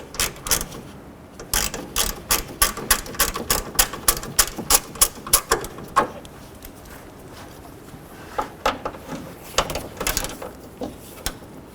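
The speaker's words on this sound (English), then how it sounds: "Using a number 5 Allen head, I'm going to go ahead and remove this mounting bolt for the grill" A number 5 Allen head takes out a grille mounting bolt on a 2007-11 Honda Civic, with a long run of sharp, close ratcheting clicks in rapid bursts, a short pause, then more clicking, and no voices.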